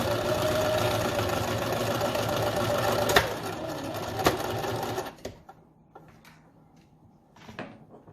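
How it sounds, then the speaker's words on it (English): A sewing machine runs steadily stitching a face mask seam along the edge of the zipper foot, a loud continuous whirring for about five seconds that stops abruptly, followed by a few quiet handling clicks and rustles. "I'm making this seam just to the edge of my zipper foot there"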